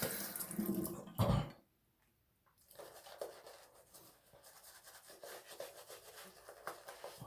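Water splashing from a running tap as someone wets their face before a wet shave, with brisk splashes, a short near-silent pause, then renewed running water and hand rubbing nearby.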